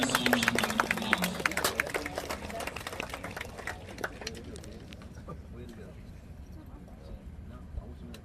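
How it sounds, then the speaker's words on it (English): An audience at a military ceremony claps for soldiers. The dense applause is loudest at first and then thins and fades over several seconds. "Please give these soldiers a round of applause."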